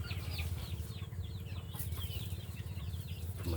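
Backyard chickens cluck and chirp steadily at close range over a constant low rumble, with brief wing flutters and no talking.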